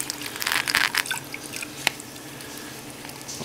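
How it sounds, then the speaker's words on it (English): Milky liquid yeast culture is poured into a funnel for a beer-brewing starter, giving a brief splashing, dripping gurgle and then a few isolated drips, with no talk. "we're just going to simply pour this right on into our funnel"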